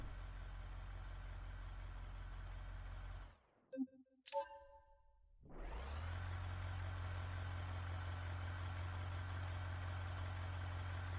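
Heavy 1-ton dually pickup truck engine idling in BeamNG, a deep, steady low rumble that cuts out briefly with a few clicks and small sounds, then restarts and settles back into a constant close idle.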